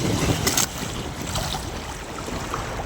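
Rough seas and strong typhoon wind make a continuous broad roar, with a louder gusting burst at the start.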